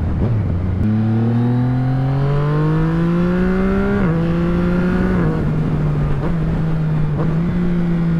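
Yamaha MT-09 Night Fluo three-cylinder motorcycle engine while riding in fifth gear, a loud steady drone rising in pitch as it accelerates, then briefly dipping with quick-shifter gear changes and settling into an even cruise.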